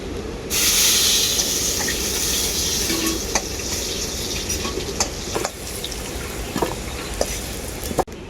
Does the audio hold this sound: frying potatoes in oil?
yes